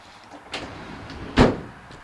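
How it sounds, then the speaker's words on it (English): A sliding side door on a 2019 Vauxhall/Opel Combo Cargo 1.5 Sportive van rolls and shuts with a firm clunk near the end, after a lighter earlier knock, heard close by with no talk. "the door slides quite nicely shut as well"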